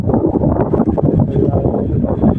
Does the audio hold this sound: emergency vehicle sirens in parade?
no